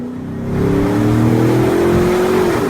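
A pickup truck engine revs up and pulls away, its deep droning roar rising steadily and loud throughout, with no voices.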